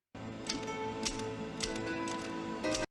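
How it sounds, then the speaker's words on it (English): Rapid clacking of a manual typewriter in a TV drama, keys striking in an irregular rhythm with occasional louder bell-like strikes and a return, steady and close under a faint background hum. "I used to love typing on typewriter."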